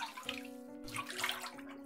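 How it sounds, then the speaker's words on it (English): Water splashes and sloshes as shoes are washed in The Witch's House video game, a soft, steady washing sound over a low sustained hum, quiet and continuous. "Wash away the blood, their shoes become clear."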